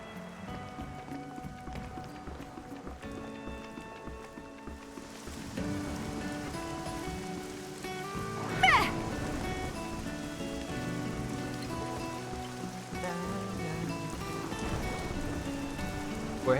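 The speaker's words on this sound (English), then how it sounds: "It's super rainy right now." Steady rainfall in the video game Xenoblade Chronicles 2, a continuous patter of rain on surfaces beneath soft game music, with one brief brighter sound partway through.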